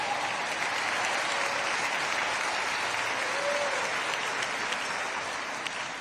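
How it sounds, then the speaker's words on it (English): Steady applause from an audience at the 2024 James Beard Awards ceremony, a continuous wash of clapping heard from a slight distance, holding at an even level throughout. "A huge round of applause"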